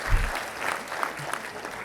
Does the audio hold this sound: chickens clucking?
no